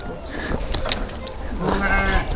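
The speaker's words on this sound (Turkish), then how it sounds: "Koyunlar." Sheep, with rams nearby on a small farm, bleat close by in a drawn-out call, set among steady outdoor background noise while people talk.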